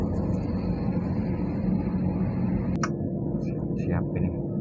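A Citilink airliner taking off on a Makassar to Yogyakarta flight, heard from inside the cabin: a loud, steady engine roar throughout, with a few faint clicks and sounds near the end.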